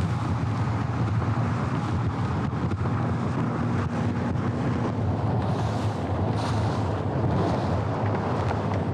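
A fishing boat powers off from the launch at a pro fishing tournament in wind and rain, its engine a steady, loud roar mixed with constant wind buffeting for the whole stretch.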